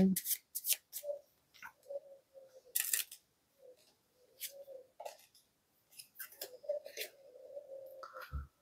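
Tarot cards being shuffled and drawn by hand in a quiet room, a series of short papery riffles, flicks and taps with gaps between them, close and fairly soft.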